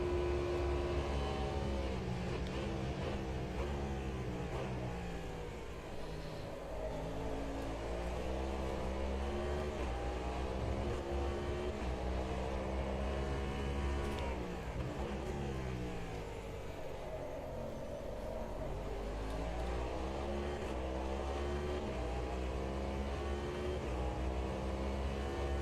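Race car engine in the Automobilista 2 racing game at Daytona, revving hard with repeated rapid downshift blips and rising and falling pitch sweeps, loud and continuous throughout.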